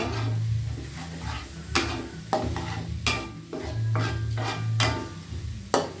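Coriander and pepper dry-roasting in a pan for papaya leaf curry, a low sizzle under repeated sharp scrapes and knocks of a spatula stirring the spices, close up with no speech.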